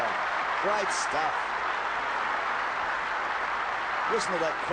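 A tennis crowd at the 1975 Australian Open final between Newcombe and Connors applauds in a steady, even wash of clapping for several seconds, with brief voices heard over it.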